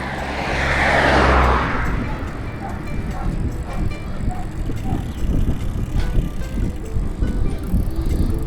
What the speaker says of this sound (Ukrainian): Поперед Ольга Васильівна педалирует